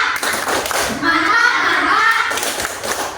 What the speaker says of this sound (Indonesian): Oke, tepuk sekali lagi, tepuk mantap.